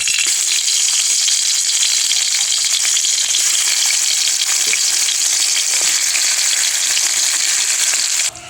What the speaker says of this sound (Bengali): এবার আমি টমেটোগুলো দিয়ে ভেজে নেব।